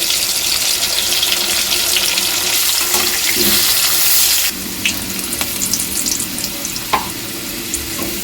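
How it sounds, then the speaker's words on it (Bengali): Potato pieces fry in oil with salt and turmeric, a loud hissing sizzle that drops in level about halfway through, then settles into softer crackling with a few sharp pops and no voices. "আলুর টুকরোগুলো আমি একটুখানি লবণ ও হলুদ দিয়ে ভেজে নেব"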